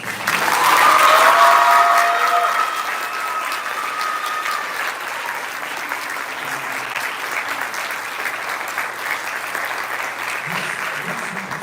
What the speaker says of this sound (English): Let's give a huge round of applause for all of our senior